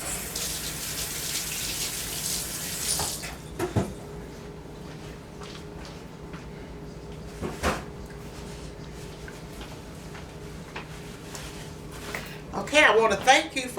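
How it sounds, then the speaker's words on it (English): Water runs from a kitchen tap as a hand is rinsed, a brief hissing stream at the start and a short splash at the end, with quieter knocks and clatter between. "Let me rinse my hand off real quick."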